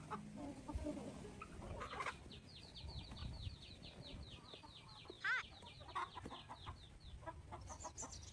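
A flock of chickens near a chicken coop on a farm: repeated soft clucking, a run of quick rhythmic calls and a few louder squawks, faint and close under quiet outdoor ambience.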